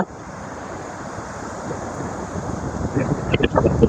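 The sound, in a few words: sea waves on the Konkan coast in monsoon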